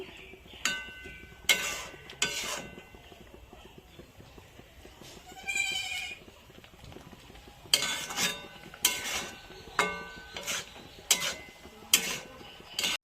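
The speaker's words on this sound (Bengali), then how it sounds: "যতক্ষণ পর্যন্ত শুকনো শুকনো না হচ্ছে এতক্ষণ পর্যন্ত নাড়তে থাকবো" A pot of moong dal and pumpkin leaf ghonto being stirred, with repeated short scraping bursts of the spoon against the pot, close and moderately loud, with brief pauses between strokes.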